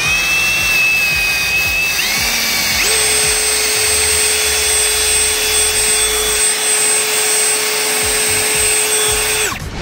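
A power brush scours the mortar joints of a brick wall with a loud, steady motor whine and a gritty scraping undertone, running close and continuously until it spins down near the end.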